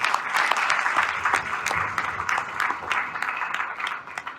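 An audience at an RCM achievement event claps loudly and continuously to welcome Mahendra ji onto the stage, a dense, even wash of applause with a few sharper individual claps standing out.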